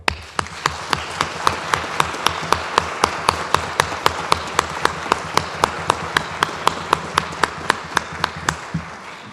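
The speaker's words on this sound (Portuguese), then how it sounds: "a quem queremos dar um extenso aplauso" An audience at a closing session beats out slow, synchronized rhythmic applause, sharp even claps about three per second continuing steadily, close and loud, with a low hum underneath.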